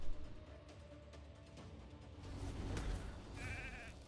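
Sheep bleating triggered by a polymorph effect in the game RAID: Shadow Legends, short cartoonish bleats over a busy, low battle rumble, with one clearer bleat near the end.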